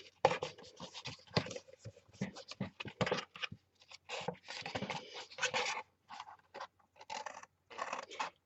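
Scissors or a trimmer cut a corner off card stock up close, giving a run of short, uneven scratchy snips and paper rustles broken by brief pauses.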